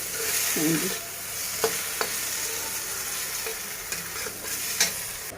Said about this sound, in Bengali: হালকা একটু তেল দিয়ে জাস্ট একটু নেড়ে চেড়ে নেবো